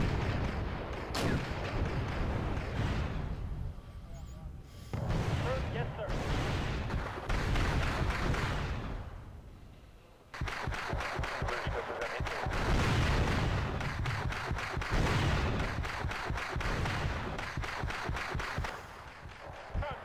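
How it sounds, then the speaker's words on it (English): Video game artillery barrage falling on Soviet units, a dense stretch of heavy booming impacts and rolling rumbles that repeat in clustered waves, loud and close, with a voice talking over parts of it. "we can drop some artillery on them"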